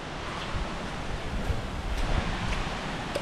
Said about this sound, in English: There's a little cheeky waterfall over here.